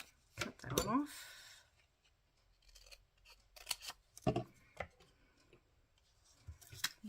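Scissors cutting paper for a purple and green craft journal, a few sharp, scattered snips close to the mic with quiet gaps and faint voice sounds between cuts.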